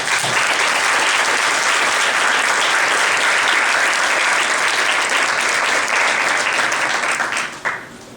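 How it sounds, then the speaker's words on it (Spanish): Audience at a panel discussion on femicides and legal frameworks breaking into sustained, dense applause that holds steady for several seconds before tapering off near the end. "yo quisiera pedirles un aplauso ante todos"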